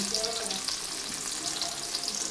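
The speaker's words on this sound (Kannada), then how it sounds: "2 ಈರುಳ್ಳಿ ಸ್ವಲ್ಪ ಫ್ರೈ ಆಗಬೇಕು" Onions sizzle and crackle steadily in hot oil for a red chutney tempering, a dense continuous frying hiss close to the pan with faint clinks of stirring and no talk.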